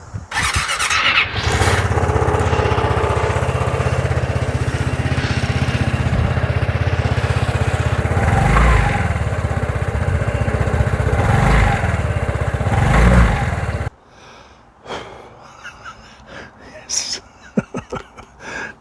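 A Vespa GTS 300 scooter, just refitted with a new drive belt and rollers, starts and runs loudly for about fourteen seconds with a few brief rises in revs, then cuts out, leaving quiet handling noises.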